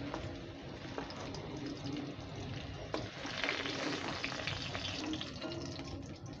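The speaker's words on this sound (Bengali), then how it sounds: "আলু আর পটলটা একটু বেশি ভালো করে ভাজা ভাজা করতে হবে, লাল লাল করে ভেজে নিতে হবে।" Potatoes and pointed gourd fry in oil in a pan, a soft continuous sizzle and hiss with faint stirring knocks, quiet and even, no voices.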